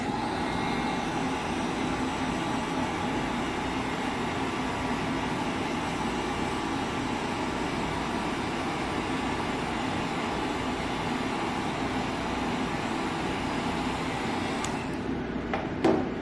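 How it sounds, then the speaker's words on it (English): A hair dryer blows with a loud, even whooshing drone, drying paint on a craft mason jar, running unbroken for many seconds before switching off at the end. "you can use a hairdryer, which is what I'm going to do today"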